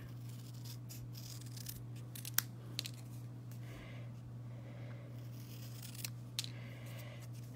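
Scissors snip through cardstock for handmade card making, a few quiet, sparse close cuts over a steady low hum with no talk.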